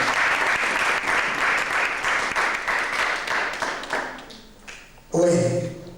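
A church congregation applauding, dense rhythmic clapping in unison that fades after about four seconds, followed by a voice speaking.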